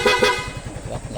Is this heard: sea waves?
no